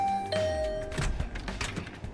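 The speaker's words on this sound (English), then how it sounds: "I rang the doorbell by the side of the door." A doorbell rings beside a dormitory room door in the video game The Hundred Line: Last Defense Academy, a clear electronic chime tone sounding twice over soft background music.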